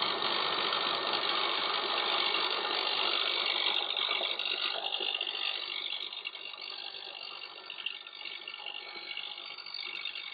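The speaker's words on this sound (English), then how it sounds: "I've now ground the small hook on two sides again, so it's just a little bit thinner and has a nice sharp edge" Angle grinder grinding a small metal hook thinner for a carburetor idle jet fix, a steady loud close whine throughout that eases slightly in the second half.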